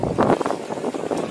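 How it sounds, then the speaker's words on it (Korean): Strong wind blows outdoors, a loud, gusty roar buffeting the microphone throughout a brief moment. "바람 많이 불어요."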